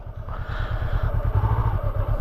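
A Super Soco electric motorcycle rolls past in traffic, giving a steady low throbbing rumble with a faint whine above it, fairly close and continuous, with a brief voice faintly underneath.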